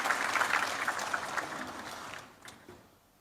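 Audience applause for the speakers at an Indonesian political speaking event, a dense wash of clapping from a crowd that swells briefly and then tapers away over a few seconds.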